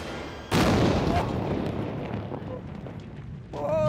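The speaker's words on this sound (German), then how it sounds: "Mann, war das ein Knall!" A sudden loud explosive boom erupts, followed by a long rumbling roar that slowly fades, then voices react loudly at the end.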